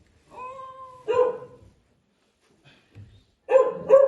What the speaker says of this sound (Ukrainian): Чоловіче, собаки гавкають.